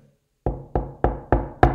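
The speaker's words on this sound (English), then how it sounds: "you'd get a knock on the door" Five firm knocks on a door, evenly spaced and close, each a sharp rap with a short ring-off, following a brief moment of silence.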